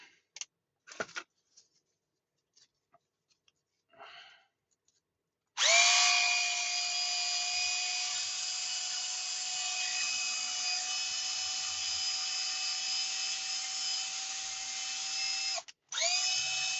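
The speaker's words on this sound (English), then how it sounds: "Go both directions. The drill." A handheld power drill whirs steadily for about ten seconds, run in forward and reverse while repairing a rusty pin on a Tamiya Madcap model in a workshop; it stops briefly, then starts again, close and loud after a few quiet clicks and handling noises.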